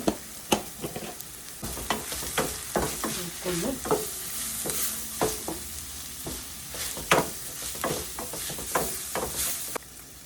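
Turmeric stirred and fried in a pan for prawn curry, a steady sizzle under repeated scraping strokes of a spoon, close and continuous with no talking.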